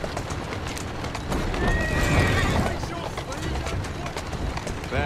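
A horse in the Victorian London streets of Assassin's Creed Syndicate trots with rhythmic clip-clopping hooves and lets out a clear, rising whinny midway, close and prominent.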